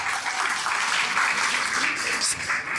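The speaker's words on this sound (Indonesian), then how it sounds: "Oke, tepuk tangan dulu dong Ibu dan Bapak." Audience members at a seminar on Gen Z and social media clap together in a steady, moderately loud wash of applause that holds evenly from start to finish.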